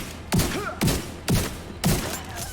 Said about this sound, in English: You blind fire until they're stunned, and then you pop up to get those more accurate hits.